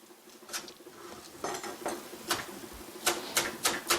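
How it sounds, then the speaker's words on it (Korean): Red chili being chopped coarsely with a knife on a cutting board: a series of sharp, close taps in an uneven rhythm, growing quicker toward the end, with no talk over them. "홍고추 자를 때는요. 좀 굵게 다져준다고 보시면 돼요."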